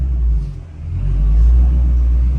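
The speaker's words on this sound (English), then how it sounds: "Just sounds good even backing up in the driveway." A Shelby GT350 with a modified exhaust rumbles deeply at low speed while backing up in a driveway, a close, loud burble that dips briefly then swells again.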